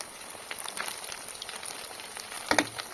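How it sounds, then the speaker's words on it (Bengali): Stuffed flattened rice (poha) pakoras deep frying in white oil over medium heat, a faint steady crackle and sizzle with a slightly louder bubbling burst near the end, no voices. "তো তেলটা মিডিয়াম আঁচে রেখে এগুলো আমি ভাজতে থাকবো।"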